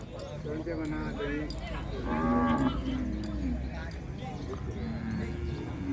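Water buffalo and cattle at a Thai livestock market moo and low over a dense, continuous crowd hum with hoof clatter, while people talk throughout.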